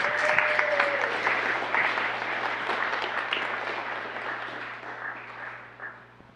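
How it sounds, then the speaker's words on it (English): A gathered audience gives warm applause to the Porkfest organizers, with dense clapping that starts strong and slowly thins and fades over several seconds. A steady low hum sits underneath. "Can we give them a round of applause?"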